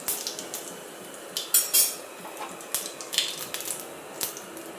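Mustard seeds and cumin crackle in hot oil for fried rice, making sharp, irregular pops and spits up close, with a few louder bursts scattered over a quiet background and no talking.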